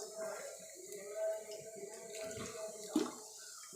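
Soda pours and fizzes into a glass, a soft steady liquid rush with bubbling, heard close and fairly quiet, with a brief clink near the end and faint voices in the background.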